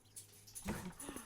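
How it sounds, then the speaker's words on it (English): A pet dog in a home gives a few short yips and whimpers, somewhat distant in the background, with no one talking. "I hear a dog. Oh, yeah, that's my dog in the background."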